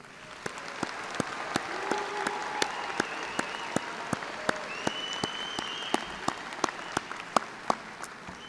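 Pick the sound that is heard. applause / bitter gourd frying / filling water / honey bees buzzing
applause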